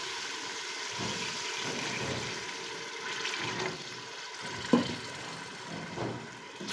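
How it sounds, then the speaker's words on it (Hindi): Water is poured into a pot of dal gosht with tomatoes, a faint ongoing splash and trickle with a few soft clinks, heard alone at low level. "पानी जो है मैं इसमें 2 गिलास के करीब ऐड कर रही हूँ।"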